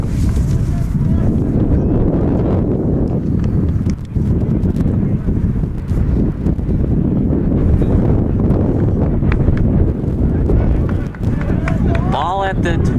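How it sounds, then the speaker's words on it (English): Strong gusty wind buffets the microphone at an outdoor high school varsity football field, a constant loud roaring rumble throughout, with a commentator talking over it. "A lot of wind today, a very windy day here at Hinsdale Central High School."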